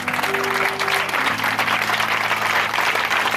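A church congregation bursts into loud, dense applause and cheering during a Sunday service, the clapping sustained and close, with a held musical tone and hum beneath it.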